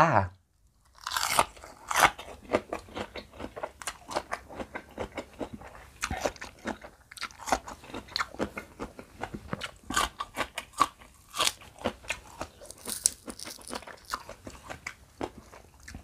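Spicy Thai papaya salad with blue swimming crab being eaten up close, with loud, crisp crunching and chewing bites coming in quick irregular bursts throughout, occasional sharper cracks from the crab shell, and no talking.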